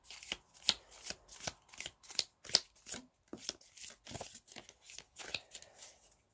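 Tarot cards being shuffled, close and crisp, in a steady series of riffling bursts spaced roughly every half second, with no voices.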